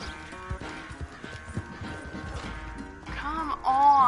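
Horse hooves clip-clop in the video game Red Dead Redemption 2 over music and game sounds, a steady trotting rhythm ending under a swelling musical passage.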